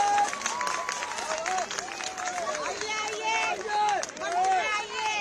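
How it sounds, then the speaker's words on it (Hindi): A large crowd at a political rally for JP Nadda applauds and cheers loudly and continuously, with raised voices mixed into the steady clapping. "खाली जोरदार ताली बजा के अभिनंदन करा भैया भी"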